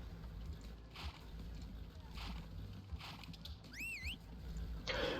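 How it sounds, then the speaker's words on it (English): A brief rising-and-falling steam whistle sounds from a train in Transport Fever 2, a short warbling toot late in the clip over quiet game ambience and background sloshing. "press H, which is the horn button. It'll either whistle or I think the horse like goes"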